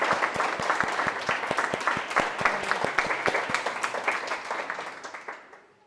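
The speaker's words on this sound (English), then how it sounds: "So big applause for all of the IFSA officials." A crowd at a general assembly session applauds steadily, many hands clapping together in a dense patter that holds for several seconds, then fades out toward the end.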